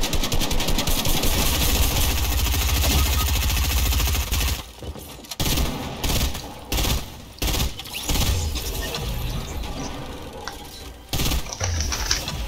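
SMG fire in Fortnite rattles in dense rapid bursts, continuous at first and then breaking into short choppy strings with gaps, loud and close.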